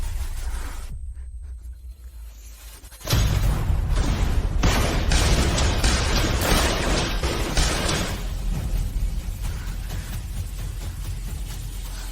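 After a quiet moment, tear gas canisters burst loudly, setting off a dense, continuous hissing roar with crackling pops that goes on for several seconds, harsh and close.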